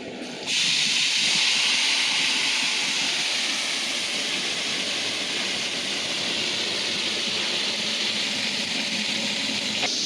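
Half a kilo of tomatoes dropped into a large pot of mutton biryani base bursts into a loud, steady sizzling hiss that starts abruptly and holds for about ten seconds.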